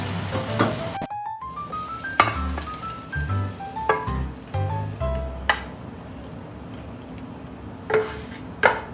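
Shrimp with spinach sizzling in a pan, with metallic clinks and scrapes of a utensil and pan being moved, a soft continuous fry under intermittent knocks and a few tonal beeps.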